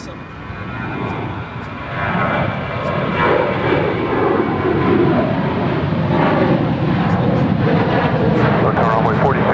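An airliner at Dallas Fort Worth airport roars on the runway with a broad, swelling engine rumble that grows louder and stays strong, while air traffic radio voices talk over it.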